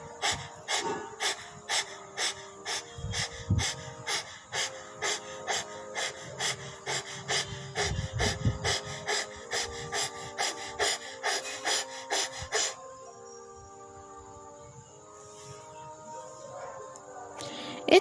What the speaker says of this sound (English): open your mouth wide and stick your tongue out. Now start panting like a dog.